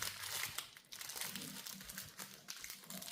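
Wrapping material crinkles and crumples as it is folded by hand around homemade dark chocolate pralines, a few close, quiet rustling bursts with brief pauses between folds.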